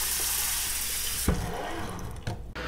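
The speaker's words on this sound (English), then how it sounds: "Some more cool water to cool it down" Cool water gushes from a tap into a pot in a home kitchen, a steady rushing stream that shifts in tone as the pot fills, with a brief clunk partway through.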